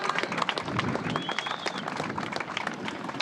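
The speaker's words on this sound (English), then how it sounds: "Let's give him a round of applause." A crowd applauds the Kawasaki Superbikes champion at Wakefield Park during the Australian Superbike Championship, with steady, moderately loud clapping running throughout.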